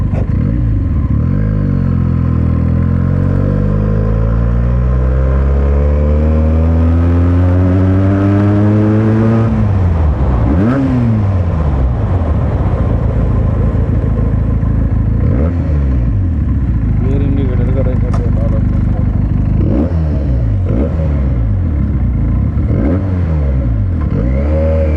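A Benelli motorcycle approaches and roars past close by, its engine note rising then falling away, followed by more revving passes of bikes later on.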